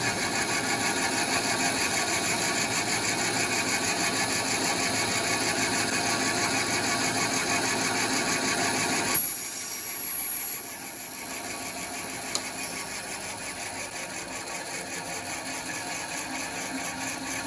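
Bandsaw running steadily with its fence locked, then feeding partway into plywood; a continuous machine drone holds throughout, with a brief change and quieter tone after the cut around the midpoint.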